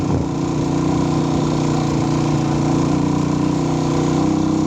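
A motorcycle engine drones steadily nearby on a cool farm road, a constant low rumble with no talking.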